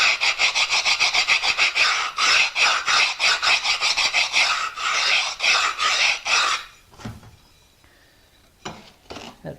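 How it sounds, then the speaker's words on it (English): A file rasps along the edge of a shower wall tile in rapid, steady back-and-forth strokes for several seconds, loud and close, then stops, leaving a few scattered scrapes and handling sounds. "let me file this real quick. I noticed I hadn't filed this."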